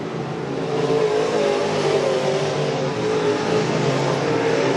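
Pro crate race cars roar down the back straightaway of an oval track in a continuous loud, steady drone, several engines blending together at a moderate distance with no speech over it.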